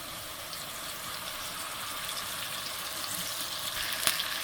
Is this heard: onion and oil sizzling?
yes